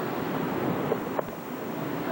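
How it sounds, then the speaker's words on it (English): Atlantic Ocean waves at Daytona Beach in the early evening, a steady broad wash of surf mixed with wind buffeting the microphone. "And a beautiful Atlantic Ocean"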